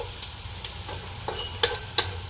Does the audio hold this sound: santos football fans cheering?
no